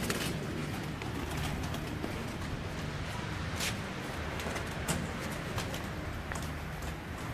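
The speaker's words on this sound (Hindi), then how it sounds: "ये भी हमारा जोड़ों वाला कबूतर है।" Paired breeding pigeons in a loft coo softly amid a dense, continuous background of rustling and loft noise, with no one speaking.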